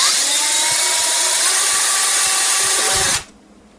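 A power drill whines steadily at close range as it bores a hole through the bottom of a Kodak Brownie Six-16 camera box, running continuously for about three seconds before stopping abruptly.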